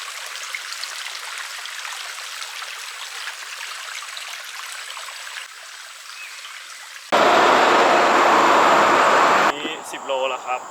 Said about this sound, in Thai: นี่คือลำธาร ใจกลางเมืองเลย